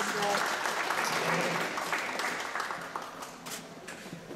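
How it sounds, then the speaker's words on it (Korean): Audience claps to welcome guests at a photography exhibition opening in Gwanak, a moderate continuous patter that gradually fades, with a voice speaking over it. "한 분 한 분 소개해 드릴 때마다 큰 박수로 맞이해 주시기를 부탁드리겠습니다"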